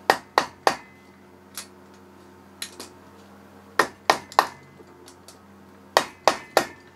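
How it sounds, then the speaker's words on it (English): A hammer tapping on a 2x4 held against a clutch part during a clutch replacement on an AC Nitro 200, sharp ringing knocks coming in quick clusters of two or three with pauses between, close and crisp. "So we're going to use our 2x4, and a hammer. We're just going to hold it nice and gentle right against it. Just going to tap it on"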